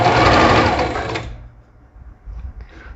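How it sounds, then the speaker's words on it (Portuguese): A sewing machine runs in one loud, continuous burst while stitching around the edge of a garment back piece, then stops, leaving quiet handling noises. "Abaixo a sapatilha, começo a costurar, dou meu retrocesso e venho"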